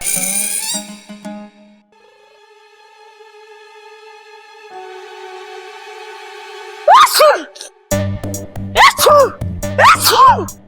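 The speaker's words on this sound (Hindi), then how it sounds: "अब छींकता ही जा रहा है" A boy sneezes again and again, sharp loud bursts near the mic in quick succession, following a stretch of quieter tones at the start.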